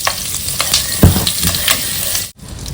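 Oil and butter heat in a pan for butter dal khichdi, crackling and sizzling steadily up close with a few sharper pops and a brief stir, no one speaking.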